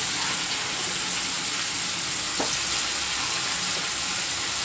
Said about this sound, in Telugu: అంతా కలిసేటట్టు బాగా తిప్పేసుకోవాలి